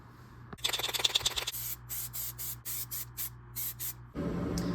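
Clear coat is sprayed from a can onto hydro-dipped camo parts: one longer hissing burst, then a series of short, evenly spaced spray bursts, close and loud, with no talking.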